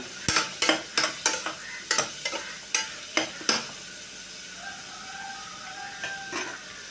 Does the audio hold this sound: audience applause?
no